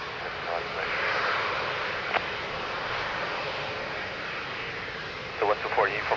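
A plane taking off at Lisbon Airport, heard as a steady, broad engine roar held at an even level, with radio-style talk in brief bursts near the end.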